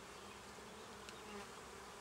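Steady, dense buzzing of honey bees at a beehive, a continuous swarm drone close by with no gaps and no voices.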